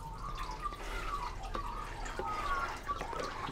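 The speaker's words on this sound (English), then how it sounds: "So I'm back with some more water. Let's put the rest of this in." Water is poured into a home fish tank, giving a faint, steady trickle and splash with a few soft drips, heard on its own in a quiet room.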